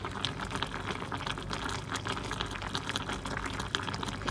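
Vegetable soup boils steadily in a pot, a continuous close bubbling and fizzing with no talk over it.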